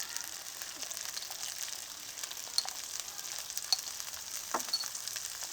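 Spiced masala frying in a pan while it is stirred, giving a steady, faint hiss of sizzling oil with light scattered scraping ticks, no voices.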